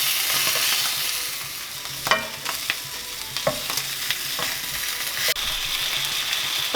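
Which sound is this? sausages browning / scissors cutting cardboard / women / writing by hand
sausages browning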